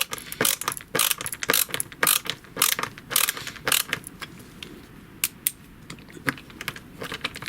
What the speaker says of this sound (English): So if you want to, we can ratchet it in there.